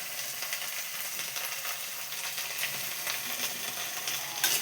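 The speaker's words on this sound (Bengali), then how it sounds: "এবার দেবো কেটে রাখা আলু, বেশি আলু দেবো না।" Cut potatoes sizzle steadily and fairly loudly in a frying pan with onion stalks, a constant bright crackle with a sharper pop near the end and no talking.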